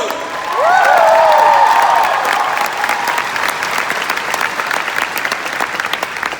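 A concert audience at a show in Auckland breaks into dense, loud clapping with a few whoops, the applause holding steady and then easing into lighter clapping.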